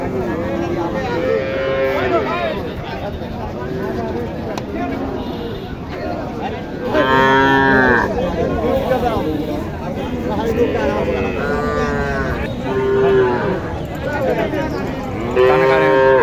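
Young Sahiwal and local heifer calves moo at a busy cattle market, with several loud, drawn-out calls in sequence over a constant murmur of crowd noise.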